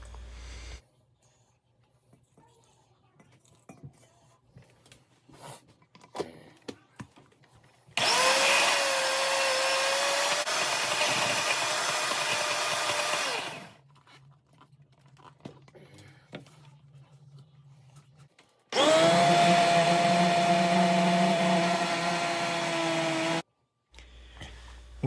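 A kitchen blender whirs loudly in two long bursts while blending fermented mustard, with quiet handling clatter and pauses between the runs; the second run sounds lower and strained as the thick mixture churns.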